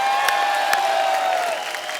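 Audience applauding as hockey players are welcomed onstage at a comedy show, a steady wash of clapping and crowd noise with a sustained musical tone underneath that eases slightly toward the end.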